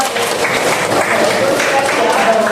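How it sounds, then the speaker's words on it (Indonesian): Applause from participants in a classroom coaching session, a steady wash of clapping with a voice speaking over it. "tepuk tangan dulu dong"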